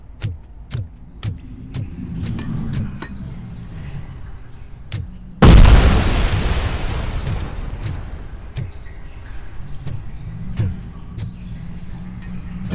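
A single heavy grenade blast bursts out mid-scene in the RoboCop Rogue City video game, a loud broadband boom with a long rumbling tail, set against scattered sharp gunshots and an ongoing low game ambience.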